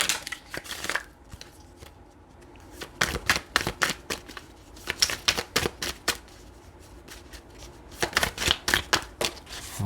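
Tarot cards are shuffled and drawn by hand: repeated crisp riffling bursts and sharp flicks come in quick clusters, close and fairly loud, with brief pauses between shuffles.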